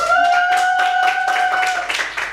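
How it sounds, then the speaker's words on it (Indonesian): A class claps hands together in a micro-teaching lesson, a run of fairly loud, close claps in a loose rhythm while a sustained tonal hum carries underneath. "Tepuk tangan."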